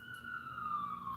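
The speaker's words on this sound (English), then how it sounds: "here's the problem. It's the sirens outside of my window." A wailing emergency siren sweeping slowly downward in pitch, fairly distant and steady, with faint background noise.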